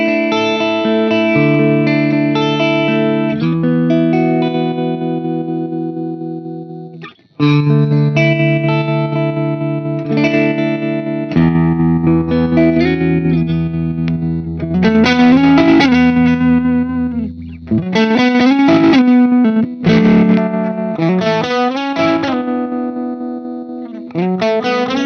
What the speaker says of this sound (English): This model's the sound of an early Class A British combo amp